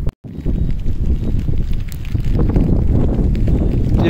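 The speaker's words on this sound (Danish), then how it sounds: "Selvom det regner og blæser helt vildt." Strong wind and rain outdoors, a loud continuous roaring buffet of gusts across the microphone that sets in after a brief quiet start and holds steady to the end.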